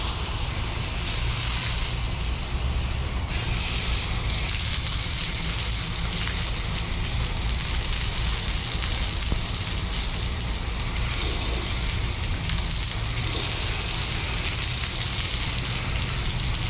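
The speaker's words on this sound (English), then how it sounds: "Let it sit for about 20-30 seconds, maybe less, and I rinse it off." Water sprays over a truck in a continuous, even hiss, loud and close throughout with no pauses or talk.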